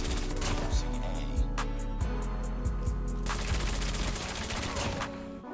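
Rapid bursts of MSMC submachine gun fire in the mobile shooter Call of Duty Mobile, loud and close, with several short volleys and single cracks over a dense background of game effects and battle noise.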